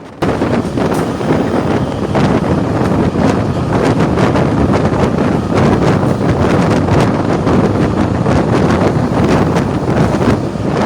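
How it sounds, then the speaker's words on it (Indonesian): Strong wind blows through the windows of a moving train, roaring steadily and loudly against the microphone, with a dense, rumbling rush and no pauses. "Angin bertiup dari sela-sela jendela, membawa aroma sungai dan dedaunan yang basah oleh embun pagi."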